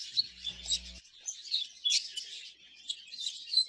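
Budgies in an exhibition aviary chirp and twitter continuously in quick, bright bursts at moderate distance, with a brief low electronic hum near the start.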